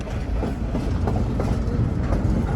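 A Verde Canyon Railroad train rolling back toward Clarkdale, heard from on board as a loud, steady rumble with dense rhythmic clatter of the wheels over the rails, close and without talking.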